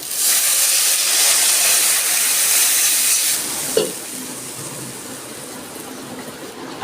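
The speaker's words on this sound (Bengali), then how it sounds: "জলটা ফুটে গেছে" Water bubbles in a cooking pot with cumin and green chillies for a thin fish curry, making a loud, steady hiss that drops away after a few seconds, followed by a single knock and a quieter simmer.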